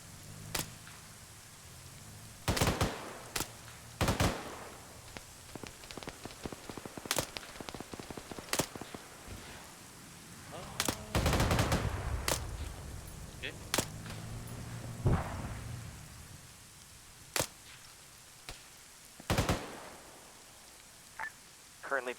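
Sharp gunfire from a tank engaging a BMP in a military video game, with repeated loud bursts at irregular intervals and a longer rumbling stretch in the middle, over steady background noise.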